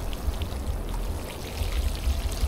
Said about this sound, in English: Just watering the plants.